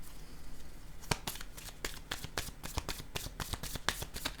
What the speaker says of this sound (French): Je vais piger des cartes mots pour les accompagner.